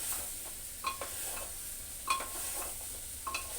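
Potatoes and soya chunks fry and get stirred in a pressure cooker, a quiet low sizzle broken by a few distinct metallic scrapes and clinks of the spoon against the pot, close and without talk.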